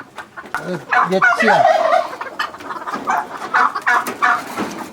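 Serama chickens clucking and gobbling close by in breeding cages, several birds calling over each other in a busy, continuous stream.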